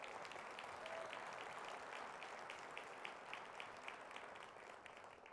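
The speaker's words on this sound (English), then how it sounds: "Let's give her a round of applause." An audience applauds after a downtown nighttime economy manager is introduced. Steady, dense clapping runs the whole time at moderate level with no talk over it, easing slightly toward the end.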